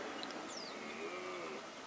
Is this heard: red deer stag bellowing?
yes